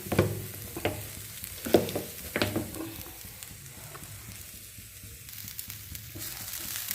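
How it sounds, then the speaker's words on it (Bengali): Grated coconut fries in a pan for puli pitha, a soft sizzle under a few sharp scraping stirs early on, then a quieter steady crackle, close and with no talking. "নারকেলটা একটু ভাজা ভাজা করে নিলাম"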